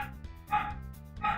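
Dog giving two short, bright barks about half a second apart, moderately close, with faint background sound.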